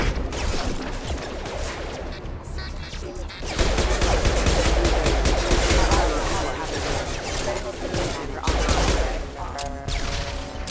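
Dense bursts of rapid gunfire rattle loudly and continuously in Mass Effect 2, with sharp crackling shots and booming impacts layered over game sound effects and occasional voices.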